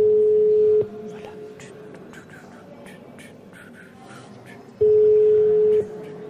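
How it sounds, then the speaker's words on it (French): Two long steady ringback tones on an outgoing phone call to a student abroad, one at the start and one near the end, separated by a quiet gap of faint room noise and distant voices. "Ça sonne, je crois que ça sonne sur de la sonnerie."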